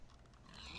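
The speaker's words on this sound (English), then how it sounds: "Look at how many pigs there are" Pigs in the Minecraft video game oinking, a faint, low game-audio grunt that runs through a short moment beneath a background hum.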